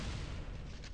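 A single deep, booming weapon blast from the video game Metal Arms: Glitch in the System fills a brief moment, close and heavy.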